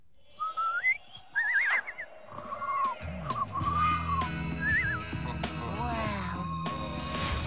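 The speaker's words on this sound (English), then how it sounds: "I never knew whistles could be so powerful" Whistle tones in an animated cartoon scene, several short warbling and gliding whistled phrases over a musical score, with other cartoon effects and a low melodic line joining partway through.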